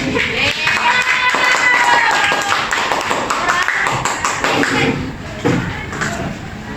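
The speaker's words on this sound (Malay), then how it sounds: "Tepuk tangan." Classroom applause of students clapping together, a steady loud patter lasting several seconds, with voices mixed in and a few thumps and shuffles nearby.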